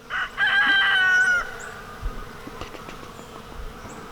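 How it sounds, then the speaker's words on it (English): Bees swarm a flowering Gold Nugget loquat tree, a steady insect buzz running throughout. A loud, close rooster crow rises over it near the start. "It has got a massive number of bees on it right now, so they are hitting it up good."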